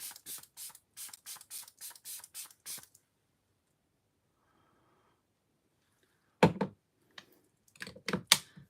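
A quick run of about a dozen short hissing sprays of Delba First Spray Serum onto a face in steady rhythm, then a pause and a few more sharp spritzes, close by.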